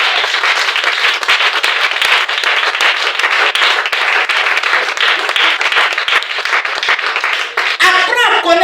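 A church congregation applauds loudly and continuously, the dense clapping filling the space, with voices rising near the end.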